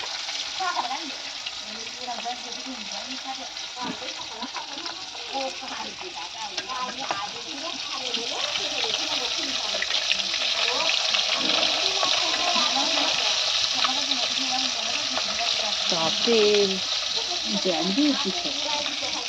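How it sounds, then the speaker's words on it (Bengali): Fish frying in a pan over a roaring wood fire, a continuous hiss and crackle that swells louder in the second half, heard close with faint background voices. "তো দেখো বন্ধুরা, মা মাছ ভাজছে এখন কাঠে,"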